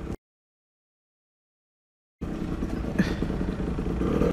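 A 50cc dirt bike fitted with a Voca Rookie 50/70 exhaust runs loud and close, its two-stroke engine buzzing steadily after a brief silence.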